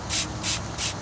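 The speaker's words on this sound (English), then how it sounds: "first thing I'm going to do is spray the area down with water, make sure it's fairly damp" Water sprayed onto damaged car paint before wet sanding: three distinct, evenly spaced hissing bursts from a spray bottle, close and fairly loud, with a fourth short burst cut off at the end.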